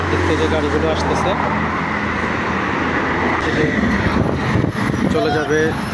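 Steady, loud road traffic on the Abdullahpur flyover in Dhaka, vehicles continuously rumbling past close by with a dense broadband roar throughout, without pauses.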